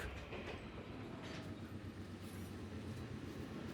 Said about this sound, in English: we jumped on the train and started heading back